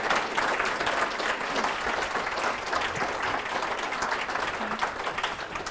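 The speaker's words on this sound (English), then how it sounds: "So let's give Steven a big round of applause." A large audience at a Bellingham City Club talk breaks into steady, dense applause that holds at full strength for the whole stretch, with no voices rising above it.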